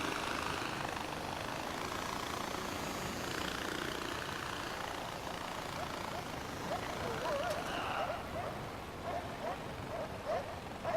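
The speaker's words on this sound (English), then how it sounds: "The moment I try to land a chopper, they up-end on me, and the rotor, the blade hit me as it just kind of falls over." A helicopter in the video game Far Cry 4 gives off a steady, loud rotor and engine drone that runs unbroken throughout. A faint voice may be heard near the end.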